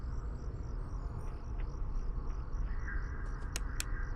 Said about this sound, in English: Those crickets are louder than anything.